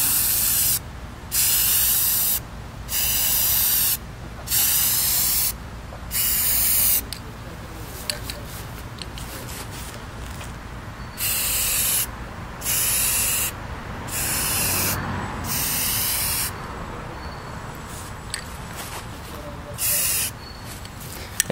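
A spray can puts a second, slightly heavier coat of paint on an AK-74 rifle part. Close, loud hissing bursts of about a second each repeat at a steady rhythm, separated by short quiet gaps.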